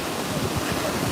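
Ocean surf at Cocoa Beach, a steady broadband wash of waves mixed with wind noise on the microphone, loud and continuous for a brief moment.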